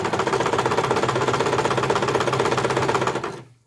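A sewing machine runs at a steady, fast rhythmic clatter while stitching a piped cushion cover, loud and close, then winds down and stops near the end.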